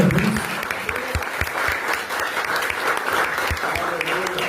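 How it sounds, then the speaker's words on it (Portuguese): Church congregation applause fills the space, a dense, steady clapping from a crowd that carries on for several seconds, with a few voices faintly mixed in underneath. "Salve de palmas."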